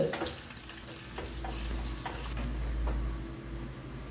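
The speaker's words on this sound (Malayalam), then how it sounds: "വെളിച്ചെണ്ണയിൽ കടുകും വറ്റൽ മുളകും അത് വറവിടുകയാണ്" Mustard seeds and dried chilies sizzle and crackle in hot coconut oil, a steady frying hiss with scattered pops, close up and without voices.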